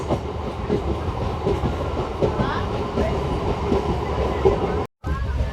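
A MEMU express train rolls along steadily between Narasapur and Rajahmundry, its wheels clattering in a loose rhythm over the rails beneath a constant heavy rumble, which cuts out for a moment near the end.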